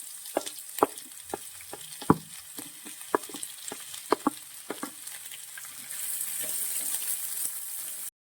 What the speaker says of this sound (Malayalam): നമുക്ക് ഈ സവാളയും കൂടെ ഇതിന്റെ കൂടെ ഇട്ട് കൊടുക്കാവേ